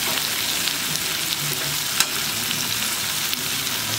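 Prawns sizzle in a hot pan of oil, a steady crackling fry at moderate level with a brief louder pop partway through and no talk over it.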